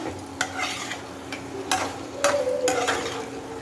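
Hilsa curry masala with pointed gourd, cooked down until nearly dry, stirred in a pan with several distinct scraping strokes over a soft steady sizzle, close and fairly quiet.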